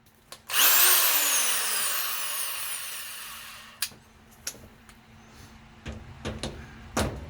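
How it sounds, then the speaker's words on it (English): A power tool whirs up loudly as screws are tightened on a washing machine during a drip repair, then winds down over a few seconds, followed by scattered clicks and knocks. "Okay, now I'll get ready to tighten those screws up."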